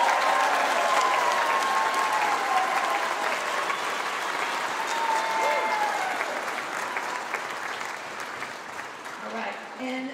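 Audience applause at a school jazz night concert, a sustained wash of many hands clapping that stays strong, then gradually thins and softens toward the end.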